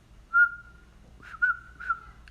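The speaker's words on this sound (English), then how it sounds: "I can whistle." A person whistles three short, clear, steady tones with brief pauses between them, close and alone in a quiet room.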